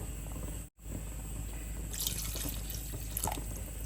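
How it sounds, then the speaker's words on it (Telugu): Water trickling and splashing into a pot of Telangana mutton curry close by, one and a half glasses poured softly and continuously with a brief gap near the start. "ఇప్పుడు ఇందులోకి నేను one and half glass water add చేస్తున్నాను"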